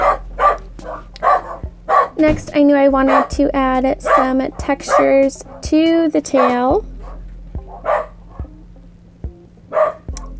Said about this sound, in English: I apologize about the dog barking.